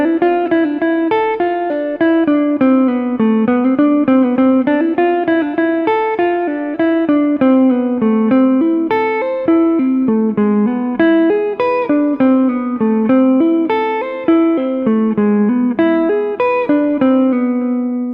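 Bach excerpt played on guitar, mixing scales and arpeggios in the A Aeolian mode: a steady, unbroken stream of clearly plucked melodic notes at moderate loudness, with no voices.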